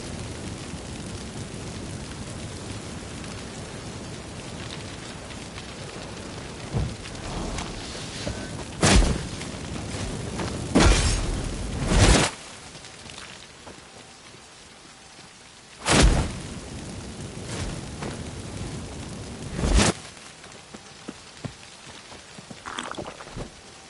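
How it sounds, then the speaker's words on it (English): Steady rain hisses throughout in the game The Witcher 3, while several sharp, loud thunder cracks break through at irregular intervals, one pair close together. "Looks like rain."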